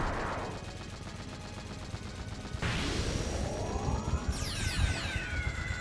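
Anti-air guns and a laser cannon battery fire in the Super Holo Wars video game: a dense, continuous rumble of gunfire with heavy bursts, then bright sweeping, descending laser tones near the end.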